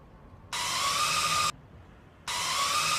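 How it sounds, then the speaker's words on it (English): Inside a VR solar-panel installation training game, a power drill drives screws in two separate whirring bursts of about a second each, with a brief pause between them. "Drill the screws."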